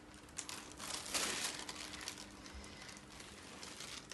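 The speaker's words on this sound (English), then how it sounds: "I'm going to gently pull the paper pattern away" Thin paper sewing pattern being gently peeled away from fabric, a soft crinkling rustle with a brief louder crackle partway through, close and quiet with no talking.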